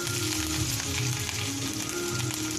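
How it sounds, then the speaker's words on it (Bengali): Grated ginger hits a hot pan for Bengali savory crepes, giving a steady, loud, close sizzle that hisses without pause, with no talking. "আদা কুচিটা দিয়ে দেবো"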